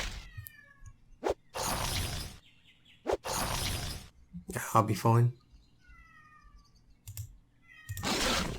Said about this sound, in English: So you're probably going to hear some incessant meowing.